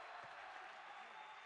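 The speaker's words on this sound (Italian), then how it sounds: "l'applauso del pubblico" A crowd applauds at a sports match, a brief burst of dense, steady clapping from a distance, heard alone without talk.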